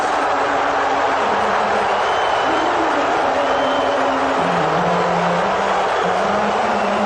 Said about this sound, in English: So there are whistles, there are cheers,